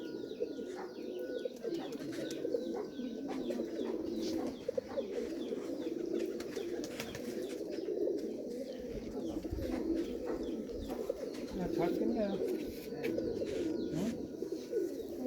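Soft, repeated coos from Chinese owl pigeons roll in a steady rhythm at close range, with faint chirps and occasional wing flutters in a quiet setting.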